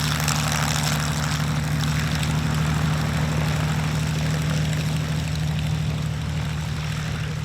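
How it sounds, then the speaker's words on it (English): Spitfire Mk IXE warbird taxiing out from a ramp at an airshow, its propeller engine droning steadily with a strong low throb and airy hiss, close and continuous throughout. "So taxiing out now from our ramp"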